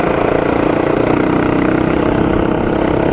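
Motorcycle idling through a first-copy Yoshimura USA slip-on exhaust, a loud, close, steady low burble with fast even pulsing and no talk.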